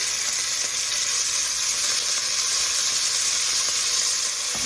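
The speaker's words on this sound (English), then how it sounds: "I'm gonna brown my beef cubes" Beef cubes browning in hot tallow in a pan, a loud, continuous, hissing sizzle close up with no break and no voices.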